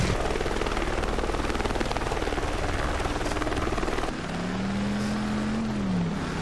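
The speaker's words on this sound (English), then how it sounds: "assist officers under fire from a goddamn news chopper" A news helicopter in the Driver San Francisco video game makes a loud, continuous rotor chop that fills the scene. A steady engine drone rises in pitch partway through, with no talking.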